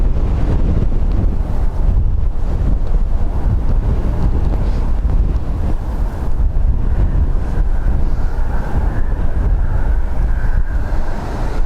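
Gusty wind of around 14 knots, with gusts to 25, blows steadily across Dublin Airport, a loud continuous roar and buffeting on the microphone with a faint tonal whine rising later, no voices.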